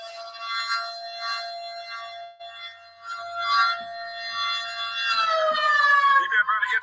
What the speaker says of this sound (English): the tsunami sirens were going off